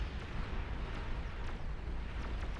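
Turrets firing EMP shots in the strategy game Beyond All Reason (BAR), a steady rumbling barrage of low booms with sharp zapping crackles at irregular intervals, mid-distance.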